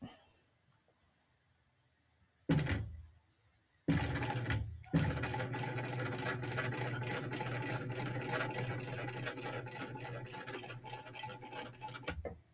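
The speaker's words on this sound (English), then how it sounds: "Top stitching, keeping that seam flat." A sewing machine top stitches a bag seam in a long, steady run of rapid needle clatter, close and loud, after a brief start-stop burst and a pause.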